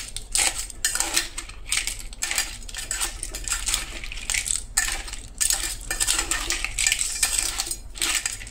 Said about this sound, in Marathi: टमाट जे आसा ते एड करा. हे पळयात आनी हे बरें मिक्स करून घेया.